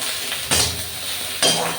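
Food in a pan gives a constant close sizzle, broken by two bursts of louder scraping as it is stirred.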